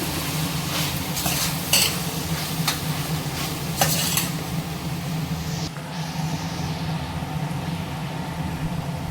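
Chilli and asafoetida go into a sizzling pan for dal rice, with a continuous frying hiss under several bright metallic taps and scrapes of stirring early on, then a steadier sizzle.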